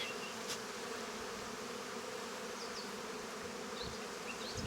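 Honey bees buzz in a dense, steady drone inside an open hive, loud and close with no pauses.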